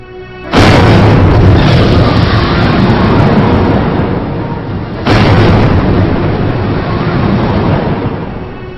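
Demolition blast destroying the sixth-century Bamiyan Buddha statues carved in cliff niches in Afghanistan in 2001, heard as a sudden loud boom with a long rumbling roar, then a second big blast about four seconds later, both rolling on without voices.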